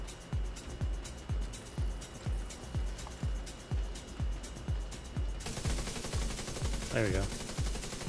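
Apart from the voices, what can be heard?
gunfire in the video game The Division 2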